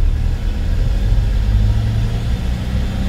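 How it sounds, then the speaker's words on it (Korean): Car engine in a manual driving-test car held at a steady mid-level rumble as the driver presses lightly on the accelerator, a continuous close drone with no talk. "엑셀 살짝 밟으시고 다음 안내시까지 직진입니다"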